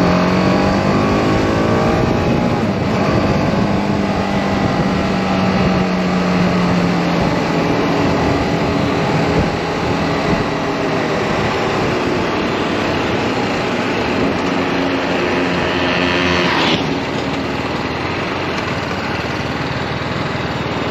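A TVS Apache RR 310 motorcycle with a 310 cc engine and rear-mounted exhaust accelerates loudly and close, its engine note climbing steadily through the gears with a sharp pitch shift near the end.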